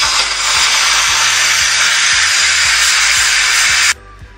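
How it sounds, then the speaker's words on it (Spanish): Steam vents from a GM pressure cooker after chicken is cooked in it, a loud, steady hiss that runs continuously for about four seconds and then cuts off abruptly, leaving faint quiet. "Dejamos que salga todo el vapor."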